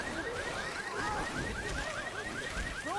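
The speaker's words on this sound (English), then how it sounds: "Boomer is spawned on the car alarm, and they'll set it off." A car alarm set off in a multiplayer zombie shooter match, with a repeating electronic whoop cycling steadily over dense game noise for the whole stretch.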